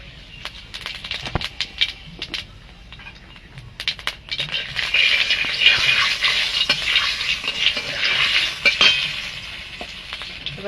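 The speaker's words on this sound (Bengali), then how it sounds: "আমি কটা জিরে ফোড়ন দিয়ে দেব।" Cumin seeds temper in hot oil in a wok, a bright, steady sizzle that swells to a crackling hiss, with a few sharp clinks and scrapes at the start.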